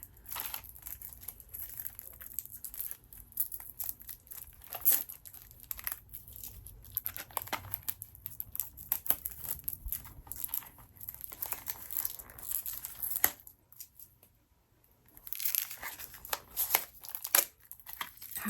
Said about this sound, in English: it's still wrapped in the plastic, so just bear with me for 1 second